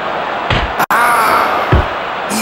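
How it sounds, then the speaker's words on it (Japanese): A heavy reverse knife-edge chop lands in a pro wrestling match, a sharp slapping smack ringing out over a constant roar of the arena crowd, with a couple of duller thuds around it. "重い逆水兵だ。"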